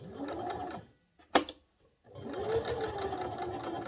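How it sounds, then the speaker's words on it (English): Sewing machine edge-stitching fabric, running in a close, steady motor whir, pausing briefly with a sharp click, then stitching on again at the same even pace. "do an edge stitch right here"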